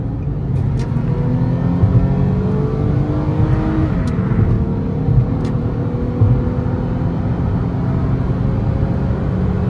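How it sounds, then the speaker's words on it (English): An older car with a Nissan VQ V6 engine accelerates onto a highway, heard from inside the cabin as a loud steady engine drone with rising tones, plus a few faint clicks. "we try to open her up a little bit. We're trying to get on the highway here."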